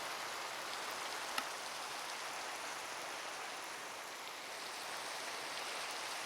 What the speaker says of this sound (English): the rain is really loud.